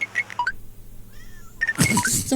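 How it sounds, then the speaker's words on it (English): A pet cat named Amber meows close behind a person, a few short high mewing calls in bursts with a brief quiet gap between them. "Amber is just like sitting behind me meowing"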